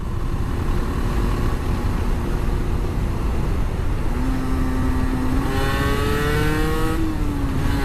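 125cc motorcycle ridden on a country road at about 70 km/h, loud continuous wind and engine roar close to the rider, with the engine note rising and shifting near the end.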